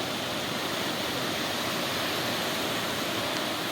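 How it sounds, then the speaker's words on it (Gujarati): A rough sea with a strong current surges under light rain. The waves make a continuous, loud, close roar of rushing water with no pauses. "જ્યાં જુઓ ત્યાં મોજો મોજો ને મોજો"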